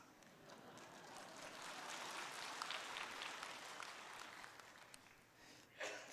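A church congregation applauds, sustained clapping spread across the room that sounds soft and a little distant, easing off near the end.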